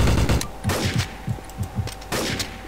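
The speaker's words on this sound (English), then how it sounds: "He's shooting!" Gunfire from a player in a Garry's Mod Trouble in Terrorist Town match: a loud opening burst, then a string of evenly spaced single shots, close and clear, with a final heavier volley near the end.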